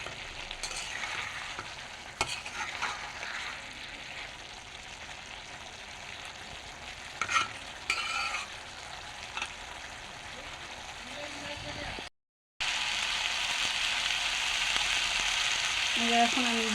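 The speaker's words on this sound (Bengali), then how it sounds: "আলু সিদ্ধ হয়ে গেছে, এখন আমি ভাজা ভাজা করে নামাই নিই" Boiled potatoes for a samosa filling frying in a pan, giving a steady close sizzle with occasional scraping stirs, a brief pause near the end, then a louder sizzle resumes.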